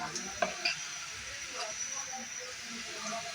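Motichoor laddu batter made with gram flour sizzles and hisses steadily in hot oil in a pan, a continuous close frying noise with a few sharp pops near the start.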